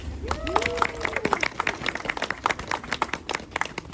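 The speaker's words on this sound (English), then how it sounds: "So let's give Kristina a round of applause." At an indoor winter farmers market in Dorchester, a small crowd claps for a teen speaker, a brief burst of scattered hand claps over busy background chatter and room noise.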